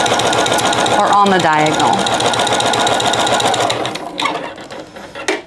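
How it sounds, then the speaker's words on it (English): A sewing machine fitted with a walking foot stitches across the layers of a rag quilt, a steady rapid mechanical whir that stops near the end, with someone talking over it. "We're going to put it under our presser foot of our walking foot, and we are just going to sew from one side to the other"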